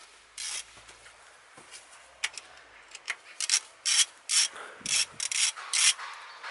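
A 10 millimeter socket ratchet works a bolt on a Toyota Corolla engine, making a quick run of crisp, close clicking bursts that grows louder and more regular toward the end.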